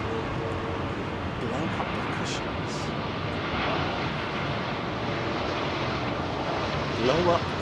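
A jet aircraft roars at Heathrow Airport with a loud, steady, broad engine rumble and wind noise that holds the whole time and swells slightly near the end.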